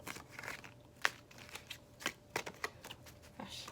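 Tarot cards being shuffled by hand, a quiet run of crisp riffling flicks and soft slaps in an irregular rhythm, close by and alone.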